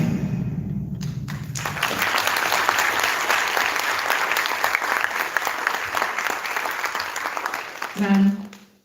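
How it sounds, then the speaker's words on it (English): Applause from the audience at a national social hackathon finale swells after a brief voice and holds as a loud, dense clatter of clapping before a thump near the end. "Can we have a round of applause, a big one for that?"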